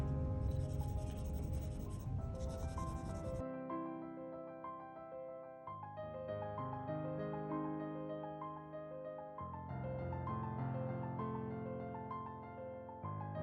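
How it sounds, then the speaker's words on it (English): A pencil held on its side shades across drawing paper with a soft, scratchy rubbing for a few seconds. Quiet background music follows and continues to the end. "hold the pencil like this and then use the side of the pencil"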